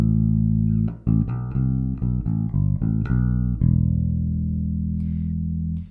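An easy TV theme bass line played on a bass guitar: a quick run of distinct plucked notes, then a final note left to ring and fade. The notes are clean and close, with no talking.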